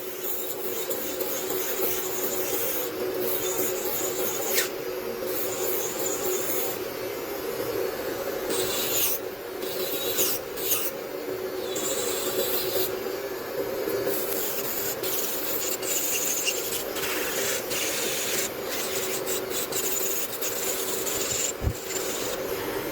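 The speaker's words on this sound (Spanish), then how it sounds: "Le voy a empezar a dar forma con esta fresa o broca" An electric nail drill with a shaping bit works a sculpted polygel nail, a continuous close whirring hum with grinding, rasping bursts as the bit touches the surface, no talk.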